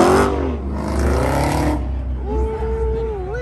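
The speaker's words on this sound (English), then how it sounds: "Got some cars pulling off on the meet too." Engines rumble as cars pull away from a car meet, a steady low roar under a voice and loud music with sliding tonal notes, the vehicles fairly close.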